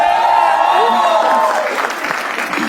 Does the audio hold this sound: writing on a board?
no